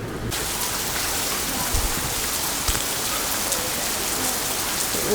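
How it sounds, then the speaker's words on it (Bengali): Steady rain pours down close by, a dense, even patter of drops on a hard surface with a few louder splashes, and no voices. "বৃষ্টি নামতেইছে নামতেইছে নামতেইছে"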